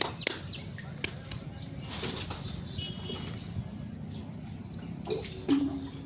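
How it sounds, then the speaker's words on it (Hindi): Pigeons burst out of a deep village well in a loud flurry of flapping wings, with soft cooing and a few brief chirps around them, all close by and without talk. "कबूतर देखो"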